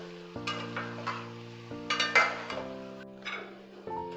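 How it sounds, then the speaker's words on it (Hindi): Mutton cubes fry with beetroot cubes in a pot, a steady sizzle broken by repeated scraping stirs and light clinks of a spoon against the metal, up close and with no talking. "अब हम 5 मिनट तक चुकंदर के साथ गोश्त को भूनेंगे।"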